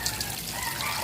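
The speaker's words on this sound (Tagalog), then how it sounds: "Halbusan muna natin siya sa tubig." Tap water runs steadily as a crab is rinsed in a home kitchen, a continuous close gushing splash that fills the whole moment with no talking.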